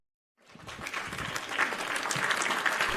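A burst of crowd applause sound effect fades in from silence and swells into a dense, steady wash of clapping that keeps building in loudness to the end, with no voices over it.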